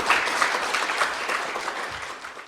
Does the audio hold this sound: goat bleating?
no